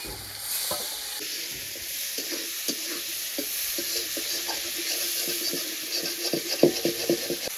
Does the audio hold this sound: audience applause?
no